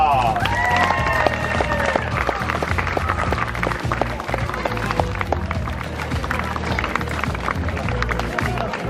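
Crowd applause for the women's winner at the Lauritsapäeva road race in 2018, steady dense clapping with sharp scattered claps, crowd noise and some talk running throughout at a lively, fairly loud level.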